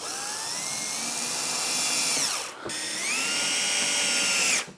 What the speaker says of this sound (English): I'm just going to pop some screws in here, just a little bit